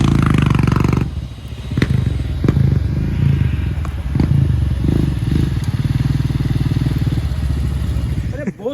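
A motorcycle ridden on a Himalayan riding event, its engine rumbling steadily and close with a few thuds and clatters, while a voice talks over it.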